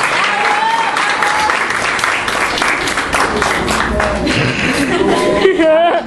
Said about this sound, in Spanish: Y Mercedes, Alison, por favor, un aplauso para ella